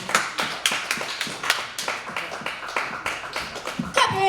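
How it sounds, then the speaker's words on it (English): Audience at a live stand-up comedy show clapping in a loose rhythmic beat, sharp distinct claps repeating steadily, close and fairly loud, with a little chuckling near the end. "Clap your hands for James Copeland"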